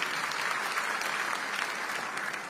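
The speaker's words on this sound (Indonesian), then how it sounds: "Tepuk tangan yang paling meriah buat Yesus" Worshippers in a church applaud together, a steady dense patter of many hands clapping at moderate volume from a distance, with no talk over it.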